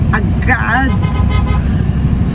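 A car horn toots briefly amid steady traffic rumble, with voices talking over the road noise.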